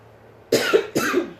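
Two harsh coughs in quick succession, close and fairly loud, with a short pause between them and no talking.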